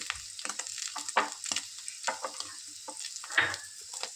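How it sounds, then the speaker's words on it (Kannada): Onions fry in a pan with a soft, irregular crackle and sizzle, faint and close, with light stirring scrapes and no talk. "ನೋಡಿ, ಈ ಥರ ಬಾಯ್ಲ್ ಆಗಬೇಕು."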